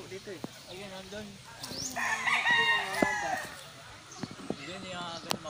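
A rooster crows once in the middle distance, a drawn-out call over light background chatter and occasional clucks from other fowl.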